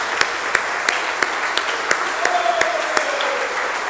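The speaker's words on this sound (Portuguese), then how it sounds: "Vamos dar uma salva de palmas ao Senhor." A church congregation applauds in praise during a Portuguese-language worship service, the clapping steady and sustained, with sharp rhythmic claps standing out at regular intervals and a faint voice beneath.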